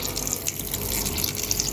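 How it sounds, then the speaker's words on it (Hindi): Cold water running from a tap over boiled macaroni in a strainer, a steady, loud, close splashing stream that continues without a break. "अब इसमें हम ठंडा पानी ऐड करेंगे और अच्छी तरह मिक्स करेंगे"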